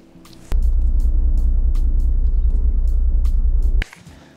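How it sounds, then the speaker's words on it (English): A road vehicle passes close by with a loud, steady low rumble lasting about three seconds, starting and stopping abruptly against quiet background. "there's a little bit of traffic going on"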